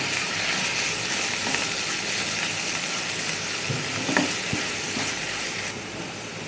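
Tomato stirred into masala that is frying for a bombil and potato curry, giving a steady, loud sizzle throughout with a few soft scraping stirs and light clinks, and no talking.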